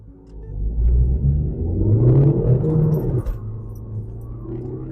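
A remapped car accelerates hard from a standstill on a dry road, its engine rumbling and rising in pitch through a gear change, loud and close inside the cabin for several seconds with no talk.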